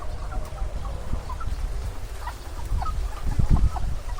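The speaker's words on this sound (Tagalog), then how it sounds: "Gutom na nga yung mga manok natin mga kapengyo" Hungry chickens on a farm cluck and murmur in scattered short calls, with low rustling and thumps close by and no voices.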